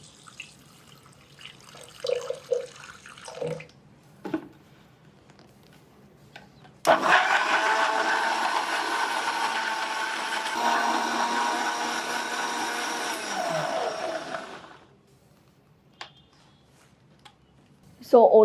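Blender whirring for about eight seconds as it purées carrot pieces with water, steady and loud after some kitchen clatter and someone talking, then cutting off abruptly.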